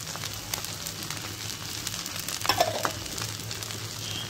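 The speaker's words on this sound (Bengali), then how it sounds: "মশলা দিয়ে আমি আরেকটু ভেজে নিয়েছি" Spices with chopped onion and green chilli fry in a pot for mixed-rice-and-lentil khichuri, giving a steady close sizzle and crackle with a brief louder burst of spattering partway through, no voices.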